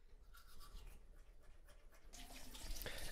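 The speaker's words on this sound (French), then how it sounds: "Elle lave sa brosse à dents et la repose" Tap water runs steadily from a faucet while a toothbrush is rinsed under it at a bathroom sink, the splashing growing louder and brighter toward the end.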